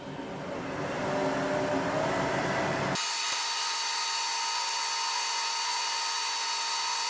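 A standard drill bit grinds against hard steel cable strands, making a steady high-pitched whine that keeps running at the same level until the end.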